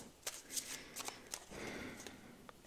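Tarot cards are shuffled nearby, soft riffling flutters and slaps in short bursts, fairly quiet, with no talking.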